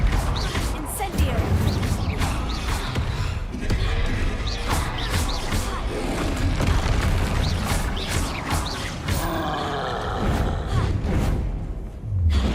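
Incendio fire spell casts in Hogwarts Legacy on PC, bursts of whooshing flame and impacts amid combat clatter, loud and close, repeated several times, with a player's voice talking at moments.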